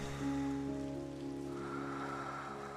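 Steady rain patters down under soft, sustained musical tones, a calm and even wash of sound.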